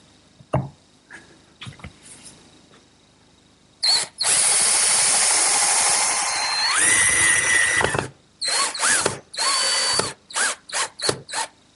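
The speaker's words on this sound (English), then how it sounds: "I'll pre-drill for the screws and secure it" A power drill whirs loudly through wood in a long sustained run, then several short bursts of drilling follow with brief pauses between them.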